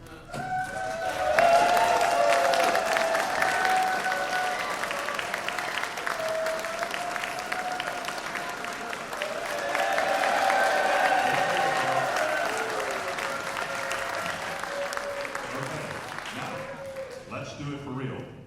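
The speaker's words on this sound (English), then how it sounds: "please help start our broadcast with a rousing round of applause" A studio audience at a live Valentine's radio show broadcast claps loudly and continuously, with whistles and some cheering mixed in, swelling again midway before tapering off.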